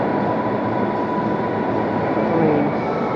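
A vintage ghost train at Statfold Country Park rumbles past, giving a steady heavy rail roar with faint wheel squeal, close and continuous without talk.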